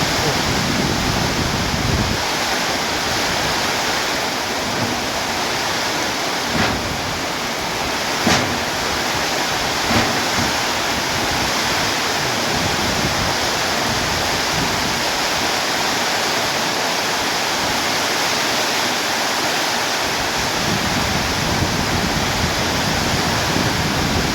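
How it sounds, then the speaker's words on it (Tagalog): Heavy rain pours steadily on a mountain in a dense, roaring wash with gusts of wind, a constant loud hiss that never lets up. "Malakas na yung ulan"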